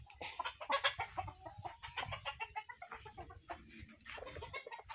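Game fowl at a farm in Talisay, Batangas cluck and call in quick, overlapping bursts, fairly close, with a faint crow among the clucking.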